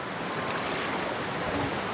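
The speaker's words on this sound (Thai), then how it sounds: "ตอนนี้นะคะเราจะพาเดินลงไปนะคะซึ่งน้ำไหลแรงมากเลยนะคะ" Strong, fast-flowing water at Huai Chan waterfall in Sisaket, a steady broadband rush that holds even and fairly loud for the whole stretch, with no voices over it.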